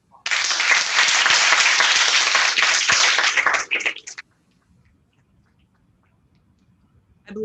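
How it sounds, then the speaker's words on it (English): An audience at an embryology lecture breaks into loud, dense applause that holds steady for about four seconds, then fades out abruptly into near silence. "Let's give Cliff another round of applause."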